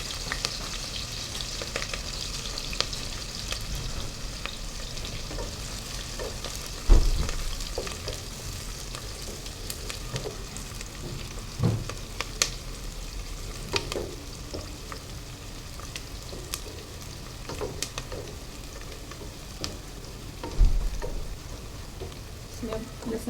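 Onions frying in a pan for Punjabi-style mutton curry: a steady, soft sizzle throughout, with occasional clinks and stirring knocks from a utensil.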